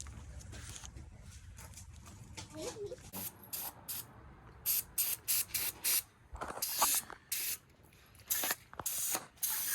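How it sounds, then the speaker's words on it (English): Short, sharp bursts of aerosol brake cleaner hiss close by onto engine parts, repeated in quick succession with brief pauses and faint mechanical clicks between them. "And you're spraying brake cleaner to clean the surface"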